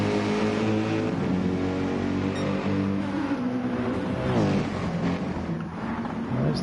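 GT1 racing cars, a Pagani among them, at Bathurst in a racing game, with a loud layered engine drone from several cars, tones climbing and shifting as they rev and pass.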